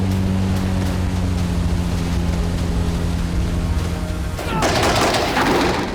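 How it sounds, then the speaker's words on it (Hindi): A Magura naval drone boat speeds across the sea, its engine a steady dense roar and rush of water spray throughout, growing harsher and more turbulent near the end, with no voices. "रूसी स्पीड बोट कुछ देर गश्त लगाने के बाद दूसरी दिशा में चली गई और फिर मागुरा ड्रोन ने रफ्तार पकड़ ली।"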